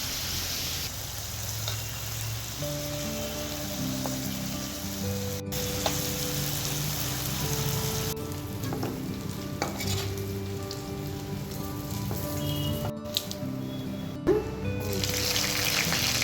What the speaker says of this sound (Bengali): চিংড়ি মাছগুলোকে ভেজে কিন্তু আমাদেরকে তুলে নিতে হবে